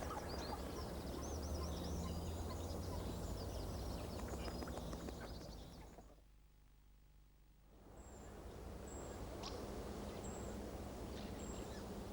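Grey heron calling in a British wetland setting, harsh bird calls over a steady outdoor background, with a brief near-silent gap in the middle before the calls resume.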